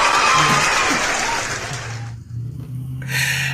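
A dense wash of crowd applause fills the first two seconds, loud and steady, then drops away into quieter room tone with a low hum before a brief burst of noise returns.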